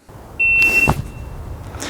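A shot timer gives a single sharp, steady electronic beep lasting about a second, close and clear, followed by faint handling noise at an outdoor firearms drill.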